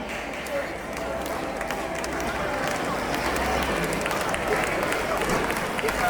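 Sustained audience applause for award winners at a school annual day celebration, a dense, steady wash of clapping from a large crowd that runs unbroken throughout.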